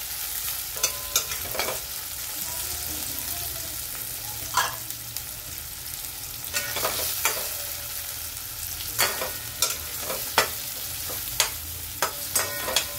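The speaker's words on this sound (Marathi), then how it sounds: "टोमॅटो पण चांगला असा नरम झाला का तोपर्यंत आपल्याला परतून घ्यायचा आहे।" Tomatoes stir-fried in a pan until soft, a steady close sizzle with scattered sharp spatula scrapes and taps against the pan, no voices.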